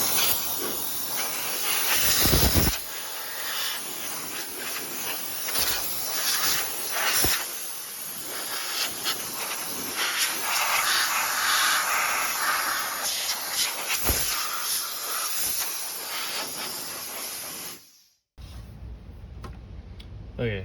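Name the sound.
compressed air blowing dust out of a computer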